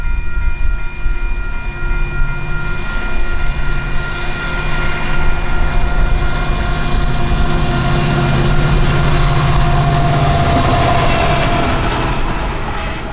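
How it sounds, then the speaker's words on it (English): A westbound Union Pacific intermodal freight train, mostly containers, rolls past a crossing in Grand Island on the UP Transcon, a loud, steady, close rumble and roar of passing cars that never lets up. "This is a westbound intermodal train, mostly containers."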